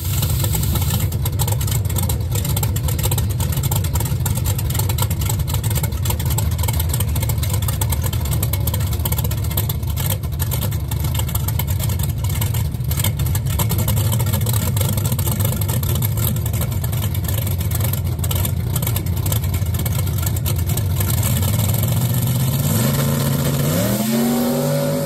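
A 4-link no-prep drag racing truck with a Turbo 400 transmission roars through a pass, its loud engine holding a steady dense drone the whole way before the note shifts and winds down near the end.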